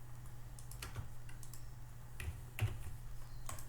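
Keys clatter on a computer keyboard in quick, irregular bursts of soft clicks over a low steady hum.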